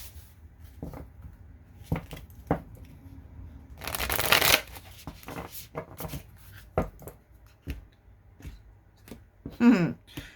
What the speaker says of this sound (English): That was like a 3 or 4 card cut on the top there.